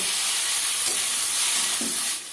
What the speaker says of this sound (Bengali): দেব সামান্য একটু কাশ্মীরি লঙ্কা গুঁড়ো দেব অল্প একটু ধনে গুঁড়ো এবার ভালো করে কষিয়ে নেব